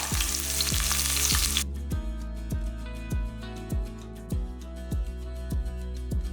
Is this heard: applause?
no